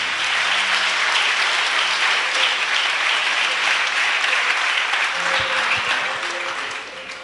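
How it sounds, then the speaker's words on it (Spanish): Sustained congregational applause at a church service, a dense steady wash of clapping from a large group that holds loudly for several seconds before tapering slightly near the end. "Denle un aplauso al Señor con todo su corazón"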